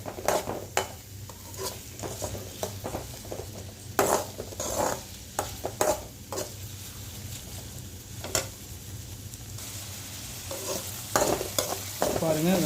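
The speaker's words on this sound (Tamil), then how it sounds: "பாருங்கள், வெங்காயம் வந்து வதங்கிட்டு இருக்கிறப்பவே" Onions sautéing in oil in a pan for a Tamil green chana gravy, with a steady close sizzle broken by repeated sharp scrapes and clinks of a spoon stirring against the metal.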